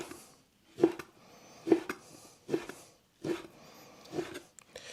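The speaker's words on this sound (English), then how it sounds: "we're going to cut it into small little chunks" Knife cutting smoked bacon from a local butcher into small chunks on a board, about five evenly spaced, fairly soft chops about a second apart with quiet gaps between.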